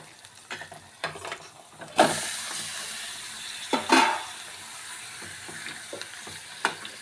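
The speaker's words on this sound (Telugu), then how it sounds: "దీన్ని ఇట్లా బాగా ఫ్రై అయిన తర్వాత అండి మనం కడిగి శుభ్రంగా ఉంచుకున్న చికెన్ని అందులో వేయాలండి." Chicken pieces for a curry fry in a pan: a loud burst of sizzling erupts as they hit the hot oil, then a steady hiss continues while a spoon stirs and scrapes, giving a few sharper clatters.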